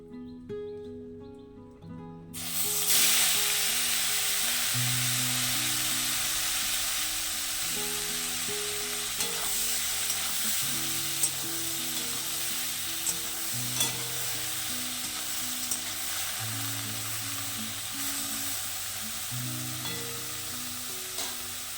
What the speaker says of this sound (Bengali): এক পাশে ফুলকপিটা বসিয়ে আর এক পাশে কিন্তু বেগুন ভাজাটাও বসিয়ে দিয়েছি